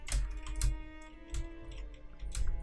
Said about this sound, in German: Ich glaube, jetzt hört man meine Tastatur wieder ordentlich.